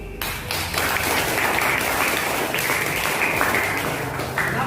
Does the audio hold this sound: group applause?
yes